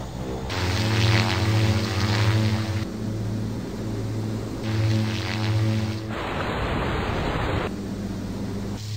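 A propeller airplane's engines hum steadily before takeoff in a comedy sketch, with low droning tones that swell and ease, broken by a burst of louder rushing noise near the end.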